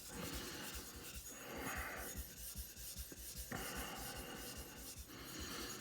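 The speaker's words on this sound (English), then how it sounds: "Now I'm gonna get a slurry going again" Slurry being raised on a De Endi finishing stone, a steady abrasive rubbing that scrapes back and forth in repeated strokes, close and fairly quiet, with brief pauses between passes.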